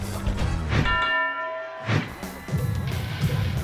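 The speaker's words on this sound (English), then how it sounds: "As they answer the bell for round 1, Tyson goes right at Ricky." A boxing ring bell rings to signal the start of round one at a Mike Tyson fight, with two distinct clangs in a noisy arena, each ringing out and ringing on over crowd sound.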